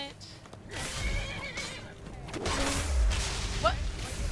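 A horse in the video game Skyrim whinnies and neighs amid clip-clopping hooves and game sounds, with a short high squeal near the end and a voice talking over part of it.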